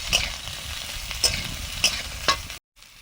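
Finely chopped ridge gourd fries in a pan, a steady close sizzle broken by four sharp scraping stirs at even intervals, then a brief silence and a return of the sizzle.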